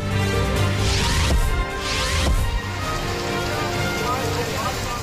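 Heavy monsoon rain pours steadily across a street during a television news report, a dense continuous hiss with a couple of louder splashing bursts and no voices.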